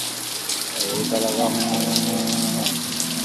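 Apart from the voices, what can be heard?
heavy rain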